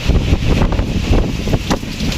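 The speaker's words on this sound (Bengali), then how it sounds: "এই যে বাতাস দেখতেছেন সারা বাংলাদেশে হচ্ছে ঝড় বৃষ্টি হচ্ছে" Strong, gusty storm wind roars and buffets the microphone in a continuous low rumble, with faint rustling and no voices, in Faridpur, Bangladesh.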